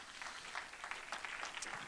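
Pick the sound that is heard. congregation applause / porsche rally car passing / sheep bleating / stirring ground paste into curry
congregation applause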